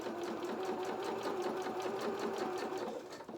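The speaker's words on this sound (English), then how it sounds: "and I'll just start stitching." A sewing machine stitches doll apron dress fabric in a fast, steady run of needle strokes at close range, slowing slightly at the end, with no talking.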